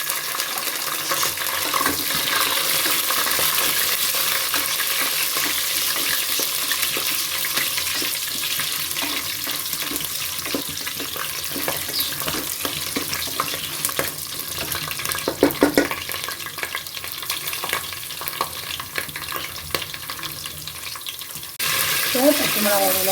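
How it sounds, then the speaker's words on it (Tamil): Ten green chillies and ginger fry in a pan for a spicy chicken gravy, producing a steady, moderately loud sizzle with occasional stirring scrapes running the whole time. "பச்சை மிளகாய் வதக்கி லைட்டாக வதங்கிட்டேன்."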